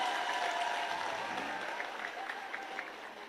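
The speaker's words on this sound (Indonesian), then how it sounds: "tepuk tangan untuk Mas Gibran" An audience claps for Vice President Gibran at an Islamic boarding school anniversary celebration, a steady, fairly faint wash of applause that tapers off slightly, with a few louder claps near the end.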